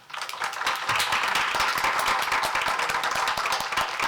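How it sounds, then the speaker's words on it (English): A crowd claps steadily for several seconds, a dense, sustained wash of applause with no voices standing out. "you should really give these children a round of applause"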